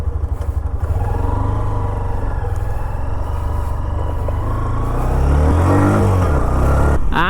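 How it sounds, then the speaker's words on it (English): A Hero Xtreme 125R motorcycle being ridden, its 125cc engine humming steadily and loud up close, then rising in pitch as it accelerates toward the end, with wind buffeting throughout. "Now let's go for a short ride on the all new Hero Xtreme"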